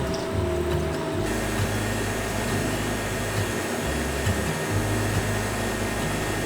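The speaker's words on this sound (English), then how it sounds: "Now the freeze drying process has started." A freeze dryer running while freeze drying ground beef, giving a steady, continuous mechanical hum with a low droning tone like a pump or compressor, alone and unbroken throughout.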